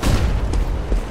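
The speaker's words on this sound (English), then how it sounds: "Throwing a flashbang." A flashbang grenade goes off in a shooter game with a loud, heavy boom that fills the short moment, followed by a couple of dull thuds as it dies away.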